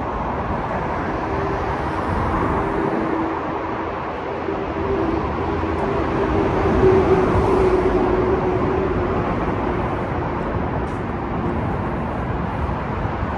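Steady broadband city traffic rumble under the Interstate 95 highway in Old City Philadelphia, a continuous loud wash with a faint tonal hum, with no talk over it.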